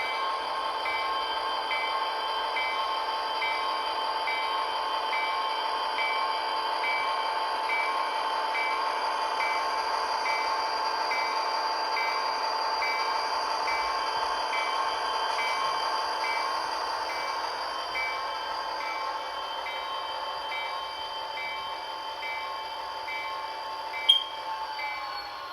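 HO scale model locomotives running on a switching layout built on a hollow core door: a steady whirring motor drone with a faint high whine that holds evenly throughout, ending with one brief click.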